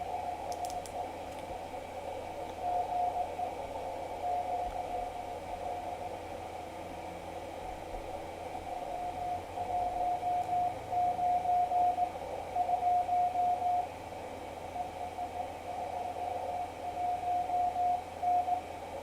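A CW Morse code signal on the 40 m band comes through a Minion SDR with a magnetic loop antenna as a faint on-off tone. The keyed beeps rise and fall in bursts over a steady hiss of band noise.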